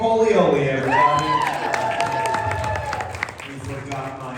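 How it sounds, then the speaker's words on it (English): A comedy-show audience in Florence, Colorado claps and cheers for a performer, with whoops and voices rising over a steady wash of applause that eases slightly toward the end. "Hey, round of applause for Roly Poly Oly, everybody."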